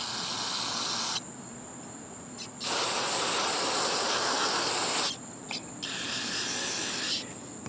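Aerosol spray hissing in bursts to rinse the float and needle of a Honda Harmony lawn mower carburetor, three close, steady sprays of a few seconds each with short pauses between.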